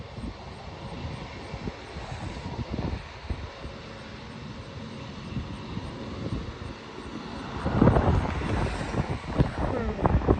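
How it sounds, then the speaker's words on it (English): An American Eagle CRJ regional jet approaches to land at Norfolk International Airport, a distant rumbling engine roar that swells louder toward the end, with people talking nearby. "Oh, here's another plane coming in."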